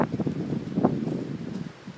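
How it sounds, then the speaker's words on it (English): Strong gusts during Hurricane Sandy roar through tree leaves in a dense, fluctuating rustle, loud and close, easing slightly toward the end. "I don't know if this is as windy as it's going to get"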